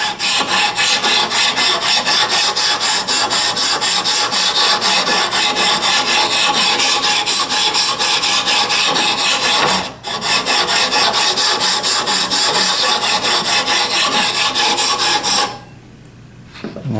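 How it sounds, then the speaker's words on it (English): A steel jointer knife rubbed back and forth on a 1000 grit diamond sharpening stone, giving a loud, close, continuous rhythmic rasp with one brief pause and a quieter tail at the end. "So I'm going to take my diamond stone here, 1000 grit, and just"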